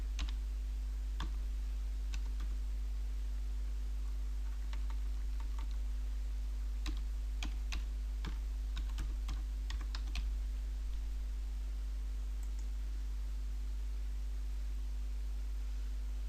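Keys tapped on a computer keyboard while a password is entered: scattered, irregular clicks in short bursts, close and fairly quiet, over a steady electrical hum with no talking.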